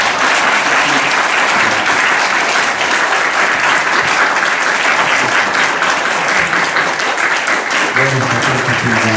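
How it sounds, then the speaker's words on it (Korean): A church congregation at a year-end worship service applauds in a loud, dense, steady wash of clapping that fills the whole stretch, with a voice surfacing faintly near the end. "박수를 부탁드립니다"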